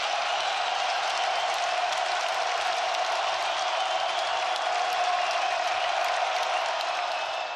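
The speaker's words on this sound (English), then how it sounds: "He didn't need to turn the volume up on the crowd. They do it themselves." Baseball stadium crowd at an Ole Miss versus Nebraska game, a dense, continuous roar of cheering and noise that holds steady and loud throughout.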